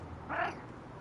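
A house cat gives a single short meow partway through, a brief mid-pitched cry over a quiet indoor background.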